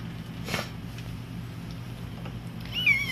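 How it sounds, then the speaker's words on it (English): A young kitten makes a rooting noise while searching for food at a rescue, a short close mew and faint squeaky calls over a steady low background hum. "Rooting is a noise they make when they're searching for food."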